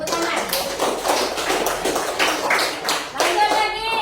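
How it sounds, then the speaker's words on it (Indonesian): Children clapping in a classroom after a correct answer in a religious lesson, a lively burst of uneven hand claps with some tapping, close and loud, with a voice briefly heard near the end. "Tepuk tangan."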